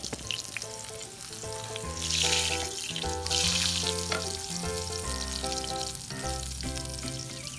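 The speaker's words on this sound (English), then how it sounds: "you only need to give it a couple minutes on each side to get an awesome sear on your steak" Steak sears inside an Ooni Pro pizza oven, a steady sizzling hiss running throughout under a droning hum and faint background music.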